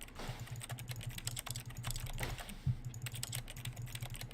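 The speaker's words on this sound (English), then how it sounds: "it's just making like clacky keyboard sounds and like mouse clicking sounds." Clacky computer keyboard typing with mouse clicks in an office setting from The Stanley Parable game, a steady rapid patter of quiet keystrokes with one sharper click partway through.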